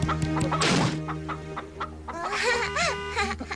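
Cartoon chicken clucking from a 1996 animated series, a string of short clucks and warbling squawks over background music, moderately loud, with no voices.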